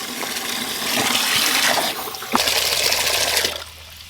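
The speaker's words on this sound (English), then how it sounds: "now we're going to add our water to the bucket" Water gushes and splashes into a 5 gallon bucket, a loud close pour that swells, briefly surges, then drops to a quieter trickle as it stops.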